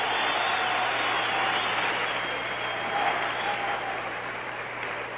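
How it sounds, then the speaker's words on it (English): A tennis crowd at the 1982 Michelob Light Challenge final stands, cheering and applauding in a steady, dense roar of clapping that fills the arena without a break. "Jimmy, people are just standing and cheering."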